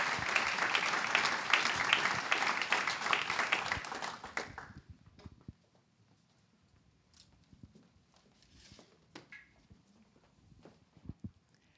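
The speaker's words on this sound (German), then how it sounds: "das ist nochmal euer Applaus" An audience applauds after a student performance at a school key-handover ceremony, a full burst of clapping that dies away after about four seconds, leaving a few scattered claps and quiet room noise.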